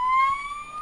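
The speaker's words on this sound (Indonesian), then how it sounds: "bisa mengeluarkan sirine" A toy fire truck's steady electronic siren tone, high and thin, holding a wavering pitch for under a second with no other sounds around it.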